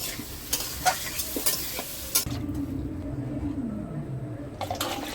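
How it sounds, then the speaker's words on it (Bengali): Potato and pointed gourd fry with turmeric and salt in a village kitchen, heard as a strong close sizzle with sharp scraping stirs early on that give way to a steadier, lower bubbling fry. "এখন কতক্ষণ আলু পটলটা কষিয়ে নেবে।"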